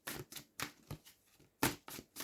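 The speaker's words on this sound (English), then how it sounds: "And if we can get the shuffle" A deck of tarot cards being shuffled by hand, giving quiet crisp riffling bursts in an irregular series of about seven short flutters, close and soft with no talk.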